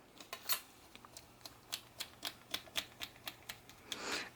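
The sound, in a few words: cutting the ends off a polymer clay spiral cane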